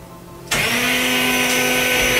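Blender mixing pea soup (potage Saint-Germain) in a kitchen, switching on abruptly and then holding a loud, steady whirring roar close by.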